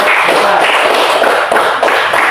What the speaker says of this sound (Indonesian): kita berikan tepuk tangan kepada kelompok